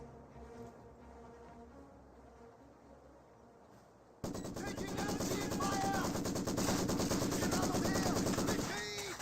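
A Maxim machine gun in the video game Company of Heroes 2 starts firing about halfway through, a loud rapid continuous rattle that follows a quieter stretch of battlefield ambience and cuts off at the end.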